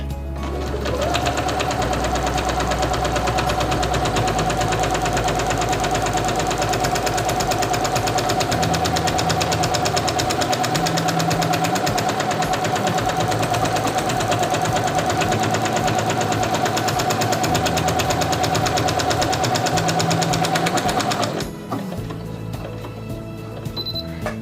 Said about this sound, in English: Lower the presser foot and begin sewing.